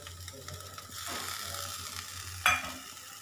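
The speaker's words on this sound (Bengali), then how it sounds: "এই সময় আমি এর মধ্যে দিয়ে দেবো কুচি করে রাখা" Chopped chicken added to vegetables frying in a pan for chicken vegetable soup, giving a soft sizzle and stirring scrapes that end in a sharp clatter near the end.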